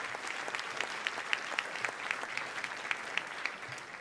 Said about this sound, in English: continue that applause for one more round